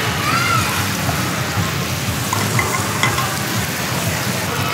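Toasted pine nuts hit a hot pan holding drained pasta, setting off a steady sizzle and frying crackle with light stirring scrapes throughout.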